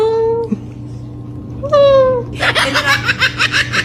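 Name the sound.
cat meowing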